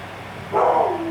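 A single short dog bark, loud and close, rising out of quiet room tone in an indoor home setting.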